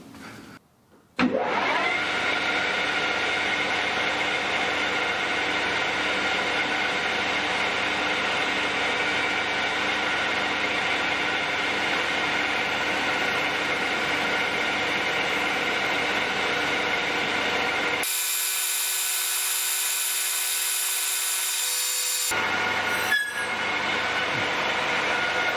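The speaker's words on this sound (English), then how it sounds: "I'm not all the way through with the pilot drill, but I've got to slow it down now anyway." A pilot drill bores into metal at about 900 RPM on a machine set up with a dividing head, giving a sustained, loud whining tone that runs steadily for most of the stretch before shifting to a harsher squeal near the end.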